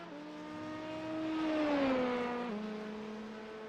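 An LMP2 prototype race car at Sebring in a sim racing game whines loudly past at high revs, its engine note rising as it nears, then dropping with a gear change as it moves away.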